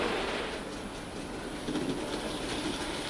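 A Dapol LSWR B4 model tank locomotive hauls a short rake of goods wagons around a model railway layout, giving a steady, continuous rumble and rattle of small wheels on track, close and even throughout with no voices.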